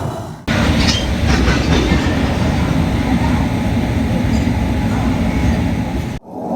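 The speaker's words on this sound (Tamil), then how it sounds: "அம்ரித் பாரத் எக்ஸ்பிரஸ் பின்னாடி இருந்து புஷ் பண்ண போற லோகோ காசியாபாத் ஸ்டேட்டோடைய ஏரோடைனமிக் WAP5ங்க." The Amrit Bharat Express, pushed from behind by an aerodynamic WAP5 locomotive, gives a loud, close, continuous rumble of wheels and rattling carriages with rhythmic clicks, cutting in and out abruptly with no one talking.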